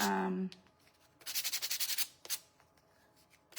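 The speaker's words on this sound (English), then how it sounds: "Let's do some sanding" Rhythmic back-and-forth hand sanding of a wooden piece, a rapid series of about nine scratchy strokes at close range, followed by a lone stroke and a few softer rubs, with a brief tone at the start.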